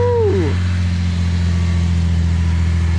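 A 1973 Datsun 240Z's built straight-six engine rumbles steadily with a falling whine at the start, a continuous low drone throughout.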